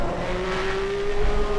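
A race car's engine drones steadily with a rising tonal whine as it brakes in a racing video game at Interlagos, loud and close for a short moment with no voices.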